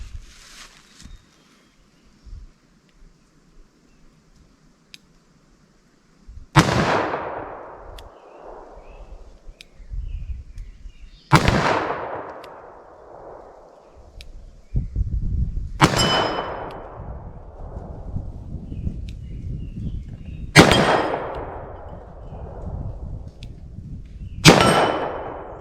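A .357 Magnum revolver firing semi-jacketed hollow points lets off five sharp, loud shots spaced several seconds apart, each with a ringing decay, after a quieter stretch of faint handling noises.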